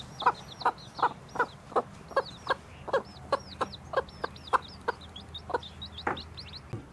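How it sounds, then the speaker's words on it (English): A hen with a newly appeared chick clucks in a steady, evenly spaced series of short calls, fairly close, while faint high peeping from the chick threads between them. "this hen turned up with another little chick"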